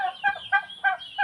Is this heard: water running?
no